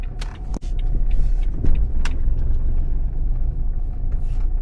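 A car drives along at steady speed, its engine and road rumble continuous and fairly loud from inside, with a few brief clicks and knocks over the drone; no one talks.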